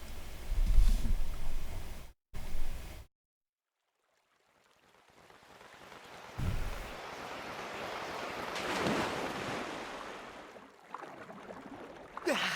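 Water waves in the video game Skyward Sword: a few rough bursts, a short drop to silence, then a surging wash of surf that swells to a peak and recedes.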